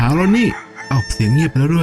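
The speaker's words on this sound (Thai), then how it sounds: "สวรรค์โปรดเสียงไก่ขัน" A rooster crows loudly and close by in a Thai cartoon, a long rising and falling call, followed by brief bursts of talking.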